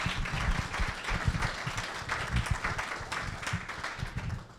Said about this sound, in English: we can all give them a round of applause